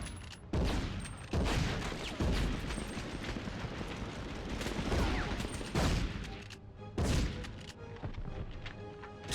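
Repeated shotgun blasts from a PS1 video game, several loud, sharp booms spaced irregularly over a dense, busy background of game sound with no talk.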